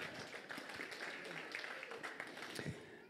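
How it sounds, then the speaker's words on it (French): Church congregation applauding after a sermon, a soft, fairly faint patter of clapping from a mixed crowd with some voices mixed in. "On l'applaudit."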